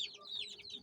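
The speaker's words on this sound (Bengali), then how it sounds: "মোরগ বাচ্চা" An Aseel rooster chick gives a few soft, high clucks and peeps, close and fairly quiet, with a faint sharp knock right at the end.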